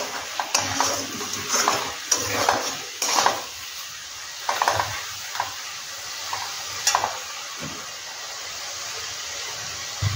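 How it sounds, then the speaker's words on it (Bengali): Turmeric and coriander powder fry in a pan, stirred with a utensil that repeatedly scrapes and clinks against the metal over a soft, steady sizzle, in irregular close bursts with no talking. "এবার মশলাগুলো দিয়ে আমি একটু ভেজে নিই"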